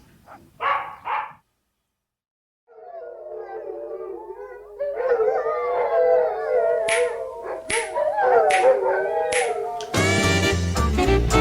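Dogs howl outdoors, starting with a couple of short barks, then a pause, then a chorus of long, wavering howls. Sharp barks break in toward the end.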